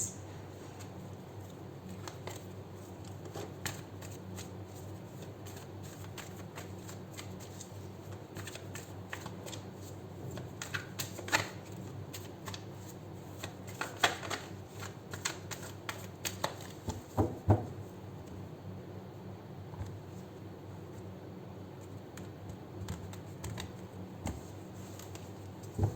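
Tarot cards are drawn and handled from a deck, producing soft papery flicks, taps and slides close up over a low steady room hum, with quiet stretches between handling sounds and no speech.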